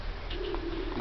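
A low, rolling pigeon coo runs almost continuously from a breeding bird, near and fairly soft, with no voices.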